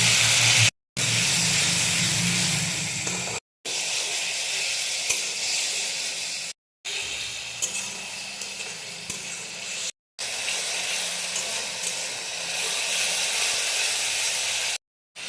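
Spice masala with onion, white cumin, bay leaves and slit green chillies sizzles and hisses steadily in a hot pan for a fish, potato and pointed gourd curry, loud and close, broken by brief silent gaps and with no talking.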